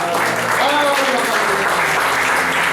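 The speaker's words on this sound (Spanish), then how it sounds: "Da palmas al Señor. Palmas." A church congregation clapping hands together during worship, a steady dense clapping that continues throughout, with voices singing or calling out beneath it.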